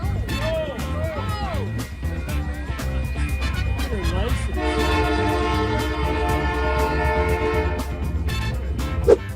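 A train rumbles past with a loud, sustained horn blast over steady engine noise, close and continuous, with brief voices underneath.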